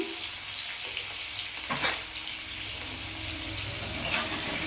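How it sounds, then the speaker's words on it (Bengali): Pointed gourd pieces frying in hot oil with salt and turmeric, a steady, close, loud sizzle running throughout with a couple of brief scraping stirs. "ওই তেলের মধ্যে পটলগুলো ভেজে নেব পটলের মধ্যে লবণ হলুদ দিয়ে দিলাম"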